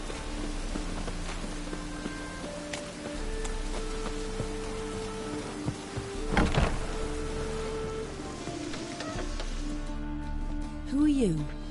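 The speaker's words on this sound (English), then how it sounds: "Rain again." Rain falling in The Witcher 3: Wild Hunt, a steady hiss of drops spread across the whole scene with footsteps and other game sounds layered over it.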